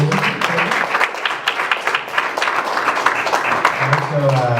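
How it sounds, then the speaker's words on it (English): Church audience applauding during a sermon, a steady wash of many hands clapping over the whole stretch, with a voice speaking briefly at the start and again near the end. "Can I get a round of applause again, please?"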